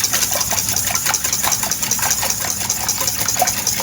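Eggs being whisked in a bowl for a veggie egg bake, a steady rapid rhythmic clatter of whisk against the bowl throughout, close and fairly loud with no talking.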